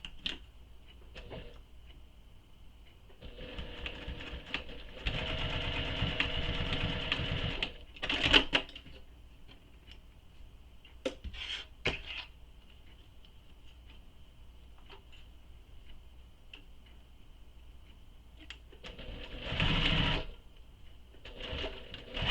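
A sewing machine stitches a strap anchor with a D-ring onto a belt bag in two bursts of rapid, close mechanical whirring, separated by quiet pauses with faint handling clicks and taps.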